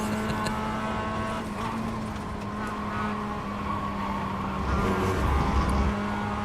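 Mazda MX-5 race car in iRacing, wearing a Lidl livery, its engine holding a steady drone throughout and swelling louder near the end, with no voices over it.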